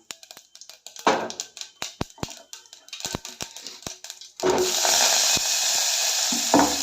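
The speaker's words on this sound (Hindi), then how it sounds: "उसी तो मेथी काट के रखे ये फ्राई करूँ मस्त।" Dal with chopped fenugreek leaves in a pan: sharp scraping stirs and clinks, then a sudden loud, steady sizzle as it hits the hot oil and keeps frying close by.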